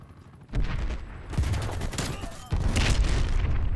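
AK-47 gunfire in the Call of Duty Cold War video game: loud rapid automatic bursts with booming reports that keep going.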